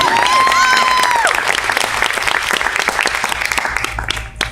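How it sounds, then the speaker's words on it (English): Audience applause at a teen pageant, loud and close, many hands clapping briskly with a whoop and cheering voices at the start, thinning out and dropping away near the end. "But give her a round of applause, guys."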